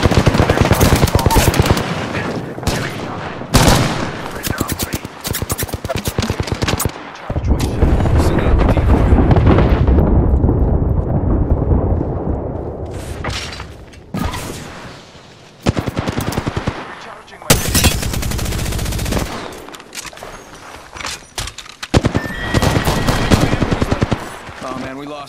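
Automatic weapon fire in the video game Apex Legends: loud, dense bursts of rapid shots with brief pauses, near and harsh, with game effects and speech mixed in.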